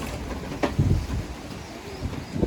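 Gusty wind blows outdoors beside a pigeon coop housing Adana and tumbler pigeons, a rough low rumble buffeting the microphone with a few stronger gusts and no talking.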